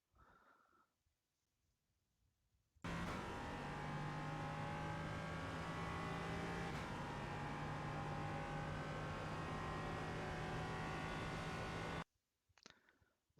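An LMP3 race car engine in the iRacing sim on a Nurburgring cockpit lap, a loud sustained engine roar with a steady high tone that starts suddenly after quiet and stops abruptly about nine seconds later.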